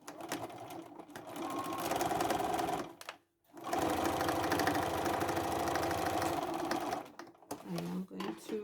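A sewing machine sews down the lining of a red velvet tote bag in two long, steady, loud runs of whirring stitching, with a brief pause between them and a softer stop-start burst at the end.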